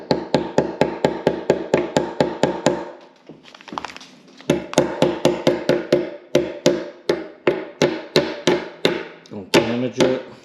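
Rapid, steady hammer strikes on a fitting during a kitchen sink installation, close and loud, with a brief pause of softer handling noise midway before the rhythmic blows resume.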